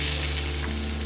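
Spice tempering sizzling in hot oil for a dal and okra dish, a steady close crackling fry without a break.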